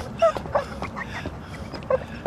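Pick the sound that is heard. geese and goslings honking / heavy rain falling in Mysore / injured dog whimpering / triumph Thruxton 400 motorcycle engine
injured dog whimpering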